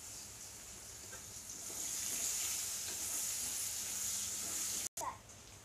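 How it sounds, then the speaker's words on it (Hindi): Washed, cut potatoes frying in oil, a steady bright hiss and crackle of sizzling that grows fuller after a couple of seconds and continues evenly, cut briefly near the end. "कटा हुआ आलू धो के रखा था, इसको भी फ्राई कर लेता हूँ यही तेल में"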